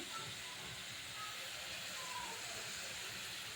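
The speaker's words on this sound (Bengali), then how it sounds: "এমনি হালকা এতে একটু ভেজে নিতে হবে আলুগুলোকে।" Potatoes fry in oil with a soft, continuous sizzling hiss, faint and even throughout, with no voices.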